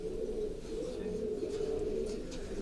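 Pigeons, some crossed with homing pigeons, coo in a loft as a steady low murmuring, near and continuous, with faint chirps above and no talk.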